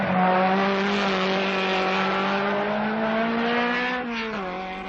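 A Czech Skoda rally car races along a stage of the 1978 Rally Danube, its engine holding a steady loud tone that shifts in pitch near the end.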